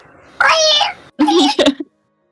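A voice imitates a cat's screech as a raven would: a long, strained meow followed by a shorter wavering yowl and a few choppy squeals, loud and close.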